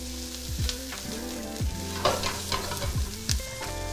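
Chopped garlic and red pepper seeds stirred in a hot pan, a continuous loud sizzle broken by repeated scraping strokes of the spoon across the pan.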